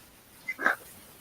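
A small dog gives a short yip and a quick bark or whimper, faint and brief, in a quiet room.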